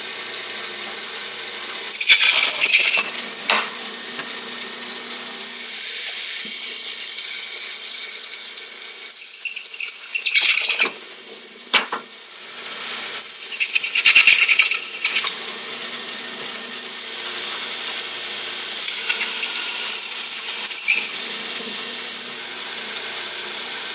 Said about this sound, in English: drilling it just on a drill press took a while